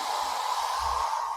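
Steady, even blowing hiss of a Gaabor hair dryer on a heat setting, running continuously and close without pause.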